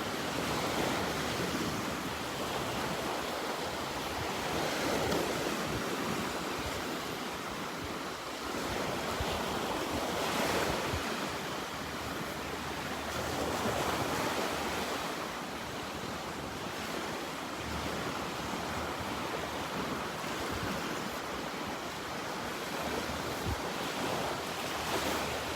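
Steady surf and wind roll continuously along the Gulf beach at Delnor-Wiggins, a broad, even wash of breaking waves with gusts buffeting the microphone throughout, no voices.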